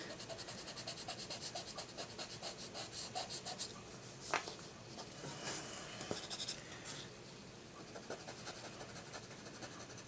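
Pencil scratching and rubbing across paper to draw highlights, a steady close, fairly quiet scraping texture with a few louder strokes partway through.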